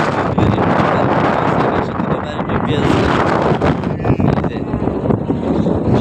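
Strong wind over floodwater buffets the microphone in a steady, loud roar, with water and outdoor noise churning underneath.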